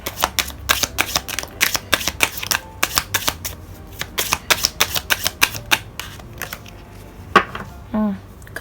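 Tarot cards shuffled by hand, a fast series of crisp riffling flicks and slaps repeated steadily and close up, then a brief clatter and a short tonal squeak near the end.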